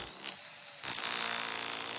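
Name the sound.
rotary hammer from Harbor Freight cutting concrete floor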